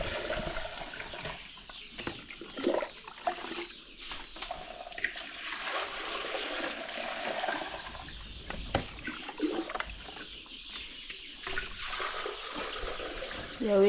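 Rainwater poured out on a poultry farm, a steady splashing, gurgling pour that runs close and fairly loud for the whole stretch, with a faint voice now and then.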